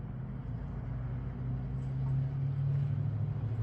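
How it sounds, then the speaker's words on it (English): Steady low road-traffic rumble outdoors, a continuous roar that swells slightly toward the end, with no talk over it. "Sorry about the road noise."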